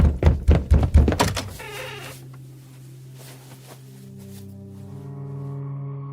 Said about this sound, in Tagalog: doon namin narinig na kumakatok si Harold